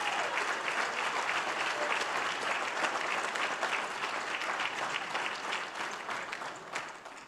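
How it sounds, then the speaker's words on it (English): Sustained audience applause at a Pro Football Hall of Fame award show, honoring a youth football official; broad, even clapping from a large crowd runs throughout, easing slightly toward the end. "Applaud this commitment to youth football."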